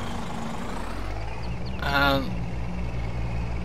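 A Scania Streamline lorry engine drones steadily with a low rumble, swelling briefly as it works up through the gears, while a voice talks over it.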